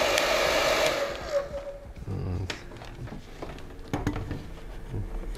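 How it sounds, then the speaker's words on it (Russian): An electric hair dryer, turned down to its second speed, drying restoration work in a museum workshop: a loud steady blowing roar that drops at the switch, then a softer whir with knocks and handling clatter. "электрический фен. Я вот убавлю его на вторую скорость."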